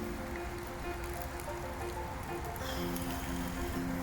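Steady rain falls around someone walking on the road from London to Christchurch, a constant close wash of drops on the ground with no talk over it.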